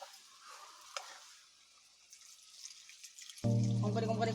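Meat stirred and frying in a pan, a soft scraping, watery sizzle for most of the time, then a sudden louder, denser burst of sizzling and clatter near the end.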